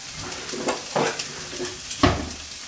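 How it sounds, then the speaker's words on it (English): Soft swishing and scraping as spaghetti is stirred in a pot of boiling water, in a few slow strokes with light clinks against the side, no talking. "You just want to swirl them around a little bit so they separate nicely."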